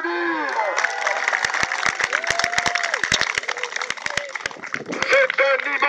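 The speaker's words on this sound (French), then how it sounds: "On peut les applaudir." Applause for competing teams at a woodcraft contest event, a crowd clapping steadily under loud overlapping announcer talk and cheers across the whole stretch.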